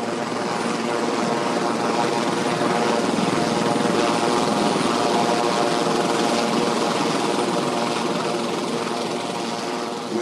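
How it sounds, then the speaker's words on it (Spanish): A helicopter flies overhead during a prison siege at Madrid's Carabanchel jail, its loud, continuous rotor thrum and engine roar filling the scene without pause. "pues ya venían con los helicópteros"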